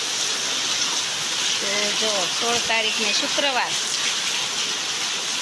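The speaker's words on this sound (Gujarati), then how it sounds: "વરસાદ આવી ગયો છે સરસ મજાનો" Steady heavy rain roars across the whole clip with water gushing through a flooded street and courtyard, a constant close wash of sound while a person talks over it.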